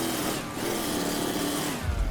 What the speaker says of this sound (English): Yep. It's a chainsaw.